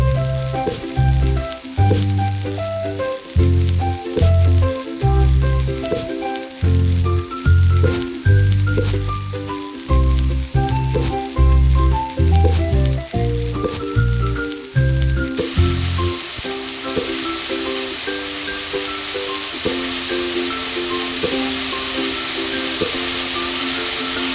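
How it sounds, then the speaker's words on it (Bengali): Chicken frying in a cooking video game: a steady sizzle runs under a bouncy melodic game tune, taking over louder once the music thins out. "শুধু কিছু উপকরণ মেশাও আর ফ্রাই করে নাও, শেষ হয়ে গেল চিকেন ফ্রাই"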